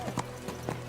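A few clear hoof clops from a horse in Kingdom Come Deliverance 2, close and distinct, over a steady background hum in a short burst.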